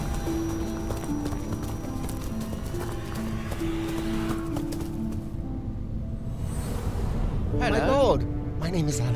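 Steady horse hoofbeats clip-clop along under ambient music in the video game Dark Romance: Heart of the Beast, with a brief whinny-like call near the end.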